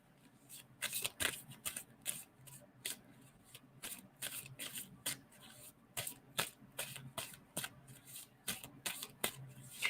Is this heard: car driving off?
no